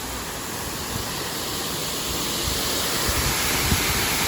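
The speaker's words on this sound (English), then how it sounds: "An awesome waterfall." A waterfall at EPCOT rushes as a steady, dense broadband wash of falling water, close and continuous with no voices over it.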